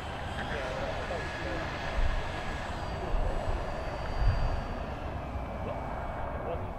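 Steady engine drone from an HSD Super Viper RC airplane taxiing on the ground, a continuous broadband whir with slight surges, heard outdoors at moderate distance.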